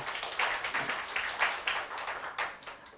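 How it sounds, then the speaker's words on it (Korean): An audience at a Gwangju urban regeneration forum claps for the mayor; a modest, uneven round of applause with audible individual hand claps, rising and falling in bursts, fairly faint. "신동훈 시장님께 다시 한번 큰 박수 부탁드리겠습니다"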